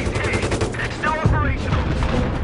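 7.62mm M240 coaxial machine gun firing in Battlefield 3, rapid dense bursts of automatic fire running through the whole stretch, loud and close, mixed with other battlefield noise.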